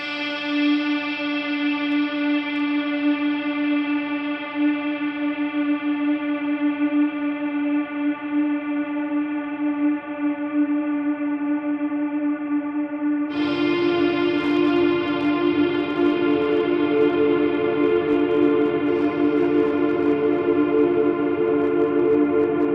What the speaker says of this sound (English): Combining those two will turn this guitar into an everlasting synth pad.